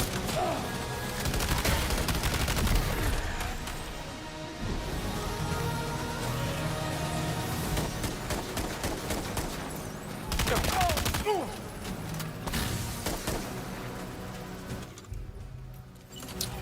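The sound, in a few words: shotgun fire in the video game Death Stranding 2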